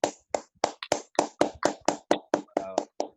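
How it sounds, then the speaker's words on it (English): A group at a graduation ceremony claps in steady, evenly spaced hand claps, about a dozen crisp beats in quick succession, close and fairly loud, with a faint voice briefly underneath. "Just really want to clap you right now for all of you."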